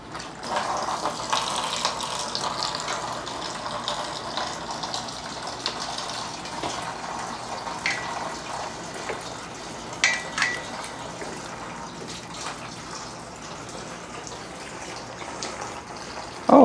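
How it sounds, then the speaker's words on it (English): Gasoline and power steering fluid draining out of a Jeep TJ engine's injector system onto a garage floor, a steady trickling, splashing flow that runs continuously at moderate loudness, with faint occasional clinks. "that's gasoline draining out of the injector system, along with power steering fluid"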